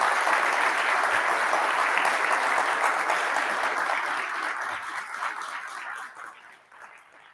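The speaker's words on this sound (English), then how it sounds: "So please just give them a quick round of applause" An international audience at the Ubuntu Summit 2022 opening plenary claps in a full, sustained round of applause that gradually tapers off and dies away in the final second.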